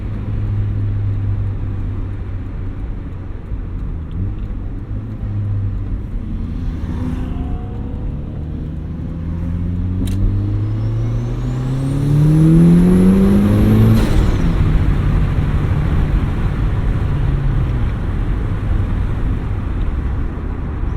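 A turbocharged Mazda Miata making about 240 wheel horsepower accelerates hard, engine pitch sweeping upward through gears as a high turbo whistle rises above it, then cuts with a sharp release, loud from inside the car with no talk.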